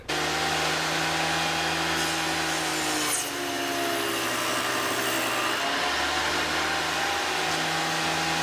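Table saw running steadily while cutting tenons in wood with a jig, a loud continuous whine and rough cutting noise up close, with no talking.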